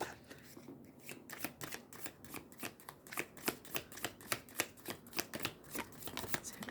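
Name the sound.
shuffling large tarot cards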